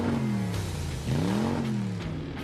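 A car engine revs in a radio advert for a used-vehicle sale, a short loud rising and falling vroom that climbs twice in quick succession.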